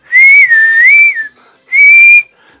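A man whistles two clear sustained notes, the first wavering and gliding up and down for about a second, then a short pause before a second steady whistle, loud and close with no talk.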